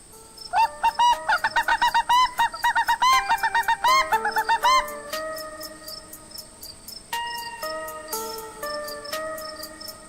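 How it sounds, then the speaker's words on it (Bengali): Chickens squawk at night in a rapid burst of shrill, piercing calls, followed by slower, spaced-out cries over a faint, steady insect-like ticking. "এত রাতে মুরগি চিৎকার করছে"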